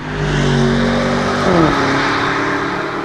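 A 2020 Porsche Cayenne Turbo S E-Hybrid Coupe engine revs hard as it accelerates uphill in Sport Plus mode, with a steady loud growl and a gear shift midway.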